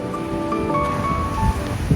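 Atlantic surf breaking on the Spanish coast at night beside a campsite, a steady broadband wash of waves mixed with gusting wind across the microphone, continuous and fairly close.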